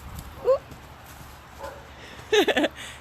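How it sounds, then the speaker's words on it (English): A dog gives a short burst of quick barks and yips near the end, after a couple of fainter yelps earlier, close by. "You heard my dog."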